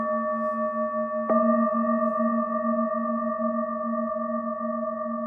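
Two antique singing bowls ring together, a second strike joining the first, their slightly mismatched pitches beating against each other as the hum lingers.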